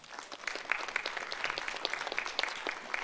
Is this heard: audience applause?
yes